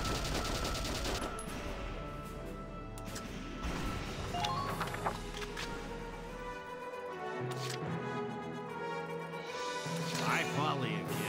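Gunfire in the Valkyria Chronicles tactical video game: a few sharp shots and impacts over layered game music and effects, loud and close, with talk around them.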